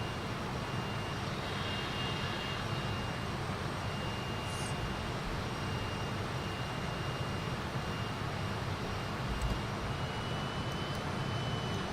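A Fokker F-28's jet engines run up with a steady, loud, unbroken roar and whine that holds even throughout.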